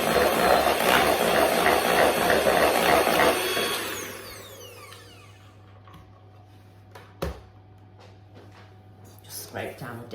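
Electric mixer beating gluten-free plum sponge pudding batter. A loud, steady motor whir runs for about four seconds, then winds down, leaving quiet with a few faint knocks.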